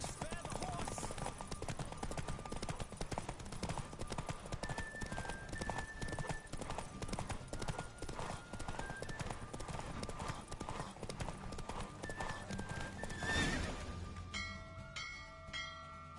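Rapid galloping hoofbeats in a horse race in The Witcher 3: Wild Hunt pound continuously with a bright, game-like sound mix and faint bell tones, ending abruptly in a flurry of chimes as a voice speaks briefly.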